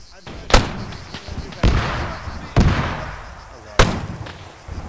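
Gunfire in the Arma 3 video game during a First Boer War battle at Laing's Nek: four heavy sharp shots with booming decays, spaced about a second apart, while someone talks.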